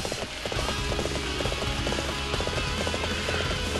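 A horse gallops across a Dynasty Warriors 7 battlefield, its rapid hoofbeats clip-clopping steadily throughout, close and clear over a busy backdrop of combat noise.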